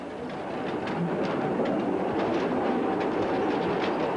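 A train rumbles along a mountain railway over bridges and curves, a steady loud rolling roar with faint rhythmic clacks of the wheels, and birds chirping faintly in the background.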